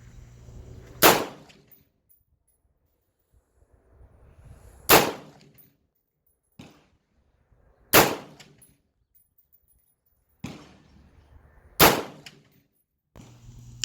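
An AR-15 rifle with a 20-inch Del Ton barrel fires outdoors as single sharp, loud shots at slow, irregular intervals, each followed by a brief decay and faint movement sounds.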